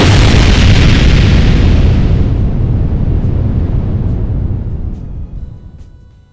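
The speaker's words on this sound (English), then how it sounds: "did somebody say explode?" An explosion sound effect: a loud, deep rumbling blast that begins at full force, then slowly thins and fades out over several seconds, with no voices.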